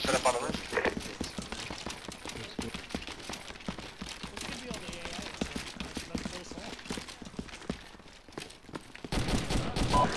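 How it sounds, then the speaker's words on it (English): Gunfire in a military video game set in Fallujah: dense, rapid shots and distant volleys crackle continuously, with a voice speaking over the shooting. "Shots fired west."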